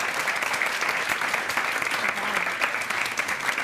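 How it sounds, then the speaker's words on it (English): Audience applause at a university show, a dense, lively burst of clapping that stays even and loud for a few seconds, close and full. "That's still worth a round of applause."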